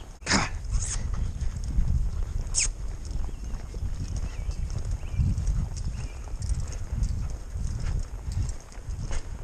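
Horse hooves loping during horseback riding, a rhythmic three-beat clip-clop on the ground with soft thuds, close and continuous, with faint breathing and movement around it.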